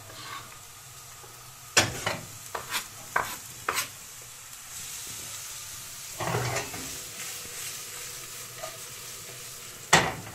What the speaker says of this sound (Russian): Пусть пока жарится лук.